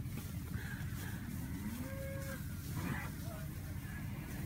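Braford cattle at a fall-calving operation lowing, with a few drawn-out moos rising over a constant wind-like rumble and indistinct background voices.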